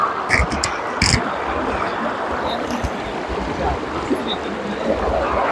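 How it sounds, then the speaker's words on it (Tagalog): A river current rushes steadily over a shallow bed where people wade, a broad, constant watery roar with occasional splashes and knocks, close and fairly loud throughout. "maingay yung agos dyan"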